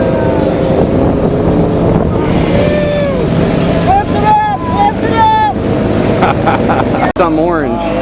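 A Mercury 2.5 hp outboard motor runs steadily on a small boat on open water, a loud continuous engine drone mixed with wind buffeting, while people talk over it.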